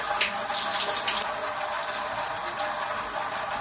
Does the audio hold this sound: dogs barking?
no